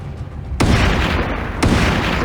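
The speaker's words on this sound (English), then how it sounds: "I might just get some headshots." Video game gunfire during a headhunter event, with two sharp, loud booming shots over a constant noisy background.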